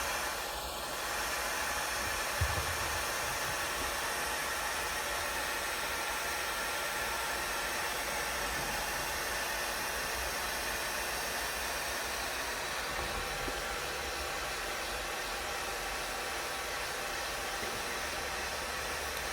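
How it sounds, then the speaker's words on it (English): A heat gun warms the gear knob mechanism of an Audi A4 3.0 TDI Quattro, giving off a constant, close airy roar and hiss that holds evenly throughout. "We'll start by applying heat with our heat gun."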